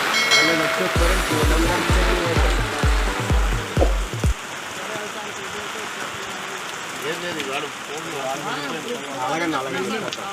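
Steady heavy cyclone rain pours down continuously, with rhythmic thumps and a voice at the start, then people talking over the rainfall.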